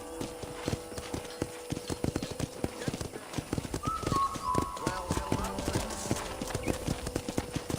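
Steady clip-clop of horse hooves trotting in a quick rhythm in Red Dead Redemption, with a short whinny midway and game music and talk underneath.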